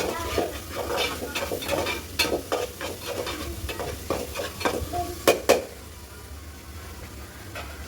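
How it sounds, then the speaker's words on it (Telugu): Ginger paste and tomato paste sizzle in a pan while a utensil scrapes and taps against the metal in quick repeated strokes. The stirring stops near the end and the steady frying hiss carries on alone. "అల్లం పేస్ట్ బాగా వేయించింది టమాటా పేస్ట్"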